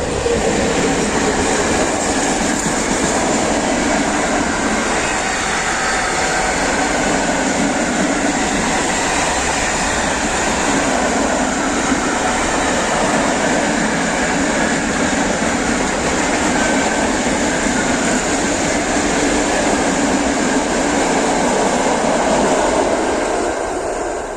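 An empty freight train rolls past at close range near Jejkowice. The loud, continuous rumble and clatter of wagons on the rails holds steady with no break, and nobody speaks.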